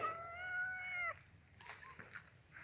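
Cats at Wat Pong Chai Buddhist temple in Chae Hom, Lampang give one long, clear, close meow, followed by faint scuffling and quieter background sounds.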